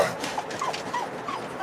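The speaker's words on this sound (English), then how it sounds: "Sorry about the dogs barking." Dogs yipping and whimpering in short high-pitched bursts at a moderate distance, a handful of quick calls spread irregularly over a faint background, no talking.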